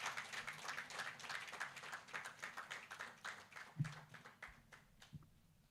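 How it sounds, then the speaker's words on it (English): Applause from a conference audience at a tourism and hospitality event as a speaker returns to her seat, a steady patter of claps that fades toward the end, with a few louder thumps. "Another round of applause as Madam takes her seat, please."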